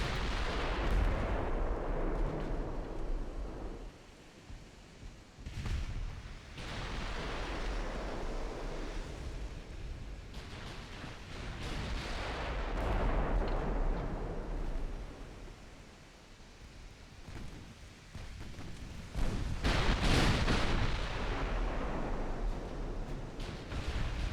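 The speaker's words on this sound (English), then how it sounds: "Some of them can also use their main guns on those DDs." Heavy naval gunfire from warship main guns engaging destroyers in Ultimate Admiral Dreadnoughts, with repeated deep booming salvos over a constant rumbling sea-like wash, several sharp blasts standing out, including a loud one near the end.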